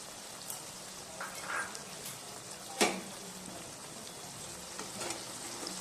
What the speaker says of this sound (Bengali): আবারও টমেটোর গন্ধটা যতক্ষণ না যায় কাঁচা, ততক্ষণ পর্যন্ত আমি এটাকে কষিয়ে নেব।